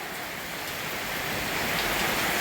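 Steady rain falls outside a home in Kerala around Vishu, an even, hissing patter that swells a little louder over a couple of seconds with no talking.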